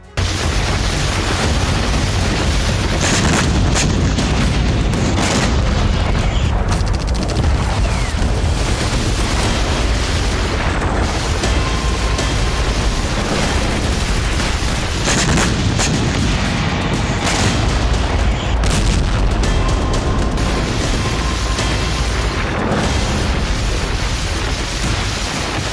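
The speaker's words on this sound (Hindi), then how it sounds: "जंगी मैदान में बेतहाशा बारूद बरस रहा है।" Artillery fire and explosions on a Russia-Ukraine battlefield form a dense, loud, continuous roar of booms and blasts with no pause, heavy low rumble throughout.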